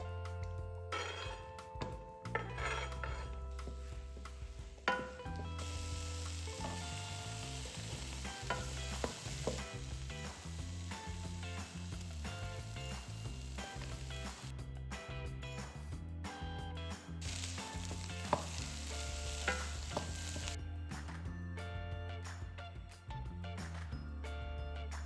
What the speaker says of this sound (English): I just fry the veggies, add spices and tomato paste